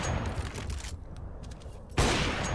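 Gunfire in Counter-Strike: Global Offensive, a couple of sharp shots before and after a brief quieter gap, loud and close with a dense crackling burst at the end.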